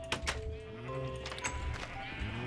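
Sheep bleating in the video game Minecraft FTB, a couple of loud, wavering bleats close by over a low game background, with no talking.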